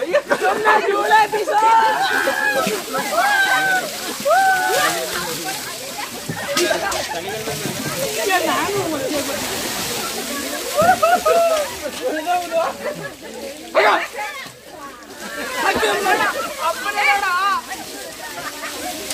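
Water sloshes and splashes as it is poured out during a wedding ritual, in repeated bursts beneath lively, overlapping chatter from a crowd of people talking close by.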